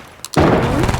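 A heavy sniper rifle fires once in a video game, a sudden loud blast that follows a couple of faint clicks and hangs as a dense rumbling boom to the end.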